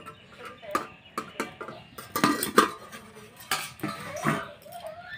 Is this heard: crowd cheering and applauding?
no